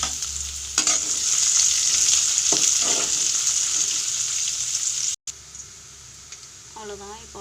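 Chillies and chopped onion frying in hot oil with popped mustard seeds, a loud continuous sizzle close by that drops off abruptly near the end, followed by quieter background and a short voice.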